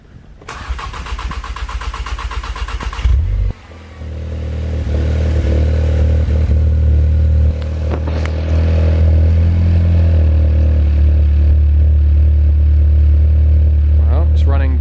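A VW Golf GTI with running problems cranks for about three seconds with a rapid starter chatter, then catches and settles into a loud, steady, low idle close by.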